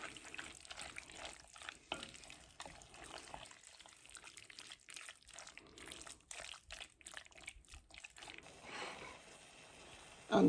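Seasonings being stirred into stewed beef liver in a pot, a busy run of scraping, wet stirring and soft clatter at close range that continues steadily throughout.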